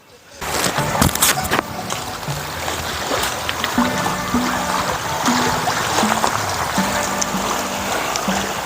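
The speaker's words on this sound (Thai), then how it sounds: "น้ำจะค่อนข้างจะ ไหลแรงเนื่องจากทางเขื่อน ได้ปล่อยน้ำให้สำหรับนักท่องเที่ยว" Strong river water released from a dam at a Nakhon Nayok campsite rushes loudly and continuously nearby, with faint voices beneath the steady flow.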